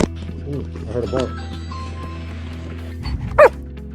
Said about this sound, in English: Okay, I heard a bark. Oh, that's my older dog.